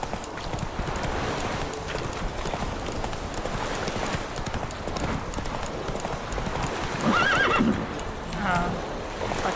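A horse in The Witcher 3 video game clip-clops at a steady pace, with a loud whinny late on. The hoofbeats are close and continuous over ambient game noise.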